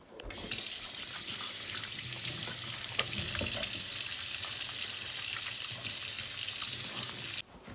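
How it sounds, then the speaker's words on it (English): Hands being washed under a running kitchen tap while preparing to cook, a steady broadband rush of water running close and loud for about seven seconds, then stopping abruptly. "first step of cooking anything is to wash your hands, so that's what I'm gonna do"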